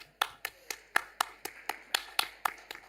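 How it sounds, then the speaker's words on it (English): Applause at a research conference: sharp, fairly sparse handclaps in a quick, even rhythm, sounding like a small number of people clapping rather than a full crowd. "Round of applause for Daria."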